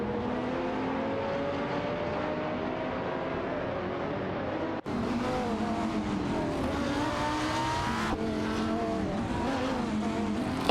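Seat Cupra GT and Aston Martin DBRS9 race cars compete in a video game race, their engines droning loudly and continuously with pitch climbing and dropping through gear changes, briefly cut off midway before resuming.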